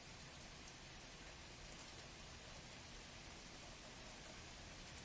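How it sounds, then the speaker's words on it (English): Steady rain noise plays behind a live stream of a Lego Star Wars build, an even, continuous hiss of falling drops with no pauses, fairly faint. "Why did you add rain to the stream?"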